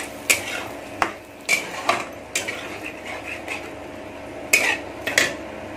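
A spoon scrapes and clinks against a pan while a tadka tempering is stirred into ambula rai, an Odia mango-based dish, giving a series of sharp metallic knocks at uneven intervals over soft background rustle, with no talking.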